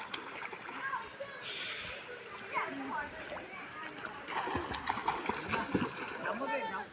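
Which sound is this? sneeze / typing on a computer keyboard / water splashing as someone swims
water splashing as someone swims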